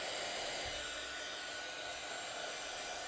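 Heat embossing tool blowing hot air for a craft project, a steady close whooshing fan roar like a hair dryer, continuous and unchanging throughout.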